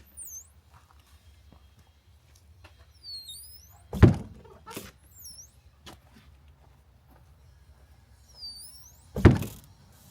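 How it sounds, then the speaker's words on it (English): A shop side door on spring-loaded hinges swinging closed by itself, with two sharp slams several seconds apart and faint squeaks between them in a quiet room. "I like using these spring-loaded hinges because I don't like closing doors. So they do it for me."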